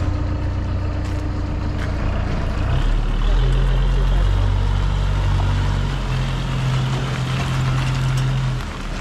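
A Manitou machine's engine pulls a Land Rover and trailer, giving a steady, loud low rumble that swells and deepens partway through and runs continuously to the end.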